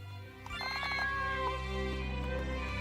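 A cartoon cat in the Chinese RPG Desert Blossom gives a drawn-out, tonal meow over steady game music, clear and close.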